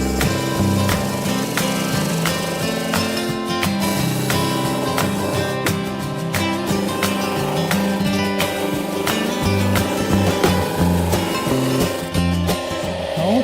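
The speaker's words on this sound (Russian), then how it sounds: "Вот сейчас немножко подровняем на шлифмашинке" An angle grinder smooths the edges of a ritual wedding dish for honey: a loud, continuous grinding whine that stays close and steady throughout, with no talk.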